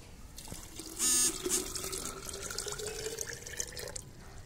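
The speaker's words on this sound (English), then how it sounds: "Now, add some water in this jar." Water poured into a jar for a home soil experiment, a short trickling and splashing pour followed by faint drips, close and quiet, no talk.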